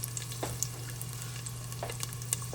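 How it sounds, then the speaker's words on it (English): Green peppers sauté in a pan with a steady, soft sizzle and scattered crackles and pops, over a constant low electrical hum, with no talking. "here goes some green peppers. Just going to saute them a little bit."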